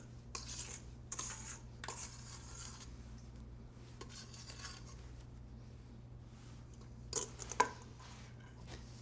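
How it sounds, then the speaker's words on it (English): A spatula scrapes an egg, sugar and fat mixture into a bowl for chocolate chip cookies, a few faint rasping strokes against the bowl over a steady low hum, with a louder scrape near the end. "You can scrape the egg and sugar mixture and fat mixture into the bowl."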